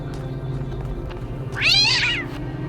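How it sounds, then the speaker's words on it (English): Cats meowing in the video game The Talos Principle 2, with one clear drawn-out meow rising and falling near the middle over a steady low ambient hum and faint scattered game sounds. "Yep, them's a lot of cats."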